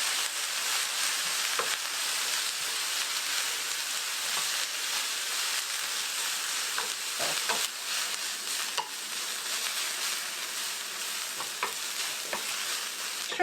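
Burdock root and carrots sautéing in a hot pan as kinpira gobo, with a steady bright sizzle throughout and occasional clicks and scrapes of stirring, no voices.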